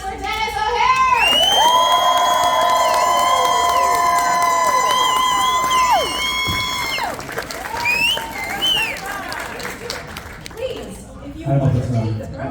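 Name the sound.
audience applause and cheering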